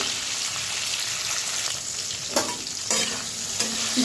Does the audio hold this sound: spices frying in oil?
yes